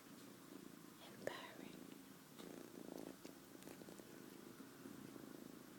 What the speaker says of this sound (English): he's actually purring at the moment